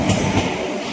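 A crowded passenger train rumbles loudly and continuously into a station, its heavy low roar and wheel noise filling the moment up close.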